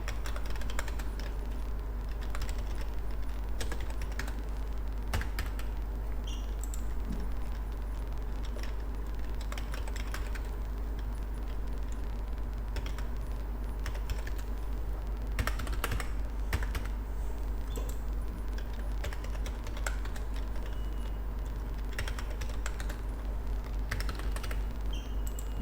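Steady typing on a computer keyboard while entering data into spreadsheet cells, with soft, irregular key clicks running throughout over a constant low hum, close and fairly quiet with no talk.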